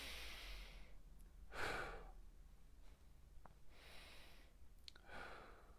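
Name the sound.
deep breathing in and out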